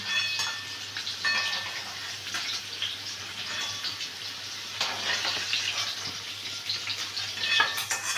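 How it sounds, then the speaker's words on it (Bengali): Potato and eggplant frying in hot oil as the pieces are lifted out, a continuous close sizzle with scraping stirs and a few sharper spikes, no voices. "আলু বেগুনটা ভাজা হয়ে গেছে। এবার আমি আলু বেগুনগুলোকে তুলে নিচ্ছি।"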